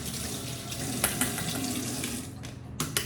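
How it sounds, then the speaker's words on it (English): Water runs steadily from a bathroom or kitchen tap as a comb is rinsed under it, with a few brief clinks and splashes near the end and no talking. "I'm just gonna rinse off my comb"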